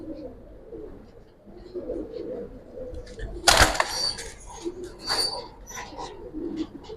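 A female Giribaz pigeon coos in low murmurs, broken by a sudden loud burst of flapping or rustling midway, then more cooing and faint chirps nearby.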